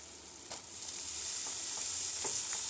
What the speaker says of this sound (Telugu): ఒక 2 మినిట్స్ బాగా మగ్గాలండి బీరకాయ ఆయిల్లో.